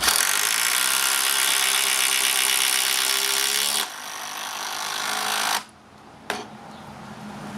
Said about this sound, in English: Makita impact drivers, we have the oil impulse and the top standard impact driver, both running 5 amp hour batteries, both on their highest setting.